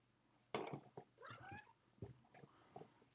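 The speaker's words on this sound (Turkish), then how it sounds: "Kedim çıktı arkadaşlar." A cat meows several times in a row, close and fairly quiet, the calls rising and falling with short gaps between.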